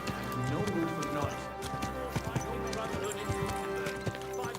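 Horse hooves clip-clop steadily through a medieval town in the video game Kingdom Come Deliverance 2, set against game music and ambience, with occasional whinnies and someone talking over it.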